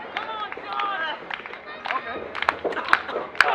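Wrestling fans clap in rhythm to rally a wrestler, scattered claps and crowd noise under a commentator talking over them at a live indoor show.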